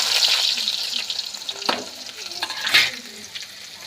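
Onions and black urad dal frying in a pan, a steady close sizzle with a few scraping stirs of a spoon against the pan.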